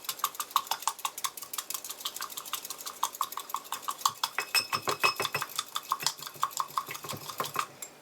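Rapid clinking of a whisk or fork against a mug while beating egg for a chocolate mug cake, a steady stream of close, bright metallic taps throughout, no voices.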